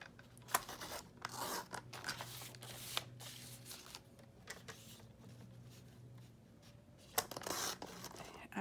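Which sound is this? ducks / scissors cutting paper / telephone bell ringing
scissors cutting paper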